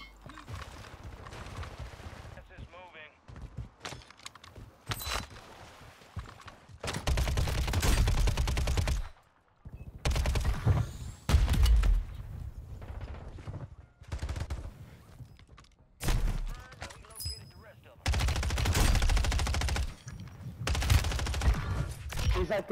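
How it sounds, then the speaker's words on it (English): Bursts of rapid automatic gunfire from an UZI build in a video game, loud sustained volleys repeating several times with short gaps between them, with a voice talking faintly underneath. "I'm under a lot of fire right now."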